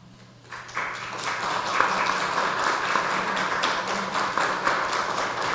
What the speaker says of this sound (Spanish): Les damos un fuerte aplauso a las hermanas.